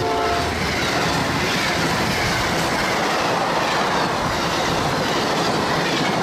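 Amtrak 92, a northbound passenger train, rolls steadily past a trackside signal, with a continuous loud rumble of wheels and clickety-clack on the rails and faint horn tones throughout.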